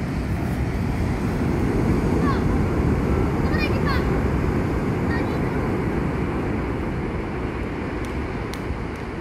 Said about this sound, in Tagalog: Taas na nung alon na no?